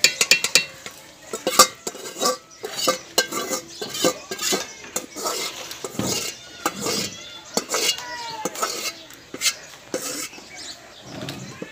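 Cooking lentils (dal) being tipped into a pot of fried chilli masala and stirred, with a spoon repeatedly clinking and scraping against the metal pan in an uneven rhythm, close and moderately loud.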